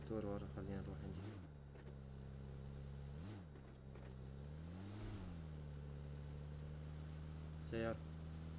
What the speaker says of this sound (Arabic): في موتور ورا، خلينا نروح نجيب.